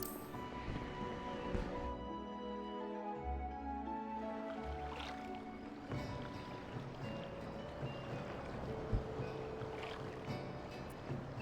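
Final Fantasy XIV ferry ride bound for the airport: a steady game soundscape of boat engine hum and lapping water, with layered tones shifting early on, continuous and moderately quiet, with no talk.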